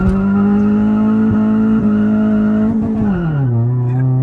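A car at a drag race event holds a loud, steady engine drone that dips in pitch as it turns and slows to a stop, with a faint tire chirp along the way.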